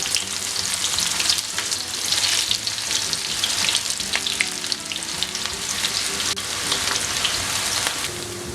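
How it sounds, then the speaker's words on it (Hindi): Onions frying in hot oil with cumin, a cinnamon piece, cloves and black cardamom for a dhaba-style potato and pea curry, a steady dense sizzle that stays loud and continuous throughout. "अब ज़ीरा अच्छी तरह फ्राई हो गया है तो इसमें हम प्याज डाल देंगे।"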